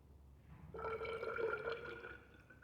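Liquid poured into a graduated cylinder of gasoline, a steady splashing trickle that starts abruptly and runs close and fairly quiet to the end, with no talk.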